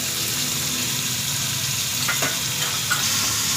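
Onions, tomatoes and capsicum stir-fry in oil over high flame, a dense continuous sizzle with a few faint spatula scrapes near the end.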